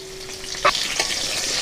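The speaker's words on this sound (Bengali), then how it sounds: "আলু কালো জিরে ভাজা হয়ে গেছে এবার দিয়ে দিলাম আলু" Potatoes tumble into hot oil spiced with black cumin, a soft thud followed by a steady close sizzling hiss that carries on evenly.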